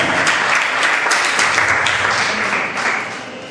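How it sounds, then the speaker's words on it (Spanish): Applause from a church congregation, a loud, continuous burst of many hands clapping that holds steady before easing slightly near the end. "Aplauda a Jesús."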